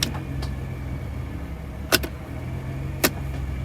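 A Toyota Supra engine idles steadily through the whole stretch after a transmission repair, with two brief sharp clicks or knocks rising above the hum.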